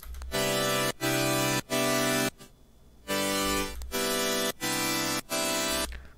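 Less detuned sawtooth synth stack playing bright, buzzy sustained chords in short separate blocks with brief gaps between them, loud and alone without talking.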